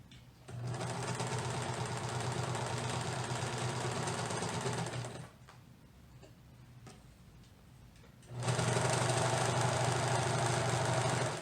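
A sewing machine stitches the under-leg seam of knit leggings, running in two steady bursts of fast rhythmic stitching with a quiet pause between, close and with no talk.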